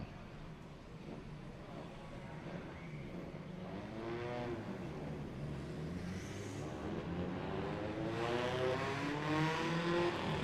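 F2, F4 and F5 class racing cars lapping a Thai circuit at a 2022 Toyo Tire race event, engines droning and rising in pitch as they approach and pass, a continuous roar that builds louder toward the end.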